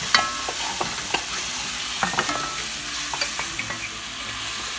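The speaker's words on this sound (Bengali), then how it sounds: "এবার এটা ভালো করে এখন কষানো হবে।" Chopped tomatoes sauté in a hot pan for a spicy octopus dish, a continuous loud sizzle broken by repeated sharp stirring clicks and scrapes, with no voices.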